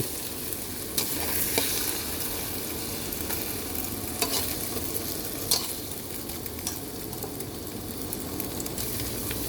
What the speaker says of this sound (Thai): ขั้นตอนนี้ไข่เจียวของเราก็สุกแล้วนะครับ เดี๋ยวเราก็จะ พักน้ำมันปิดแก๊ส